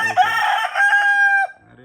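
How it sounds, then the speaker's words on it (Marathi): A single loud rooster crow, close by, rising and holding before cutting off abruptly. "आमचे कोंबडे दुपारच्या आवर आरवतात"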